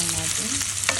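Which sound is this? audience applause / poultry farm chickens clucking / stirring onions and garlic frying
stirring onions and garlic frying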